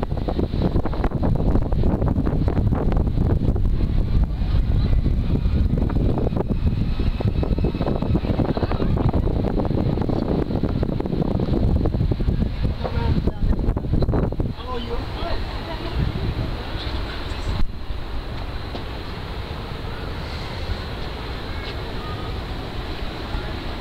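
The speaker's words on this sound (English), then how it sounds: "Feel the full force of the wind now." Strong wind buffets the microphone at the open-air top of Blackpool Tower, a loud continuous roar that eases somewhat partway through but keeps rushing on to the end.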